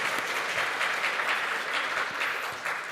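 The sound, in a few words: congregation applause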